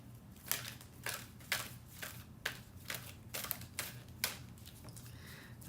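A large deck of cards is shuffled repeatedly, with soft riffling bursts in an even rhythm about twice a second, faint and close, with no talking.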